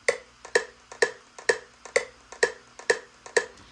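A metronome ticks steadily at a moderate tempo, about two clicks per second, each click followed by a softer echoing delay bounce. It is clear and close, with no voices.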